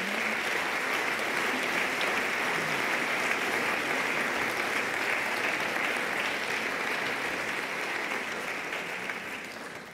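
Sustained audience applause at a closing speech, steady and dense for the whole stretch, thinning slightly toward the end.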